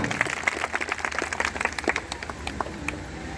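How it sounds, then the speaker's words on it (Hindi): An indoor audience at a corporate recognition event claps steadily for several seconds, a dense patter of hand claps at moderate distance with a faint voice now and then underneath. "साथियों सीनियर साहब के सम्मान में एक बार जोरदार तालियां हो जाए साथियों"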